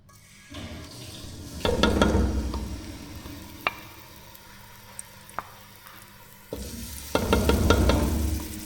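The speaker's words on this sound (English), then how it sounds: "So we make the oil hot and then we fry it up." Curry ingredients fry in very hot oil for a Jamaican curry, giving a steady crackling sizzle with louder bursts of spitting and clatter near the start and end, no voices over it.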